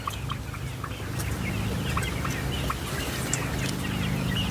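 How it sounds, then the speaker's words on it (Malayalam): A flock of hens clucks busily on a poultry farm, many overlapping calls forming a steady, dense chorus over constant background noise. "അപ്പം ഇതാണ് കോഴികൾ."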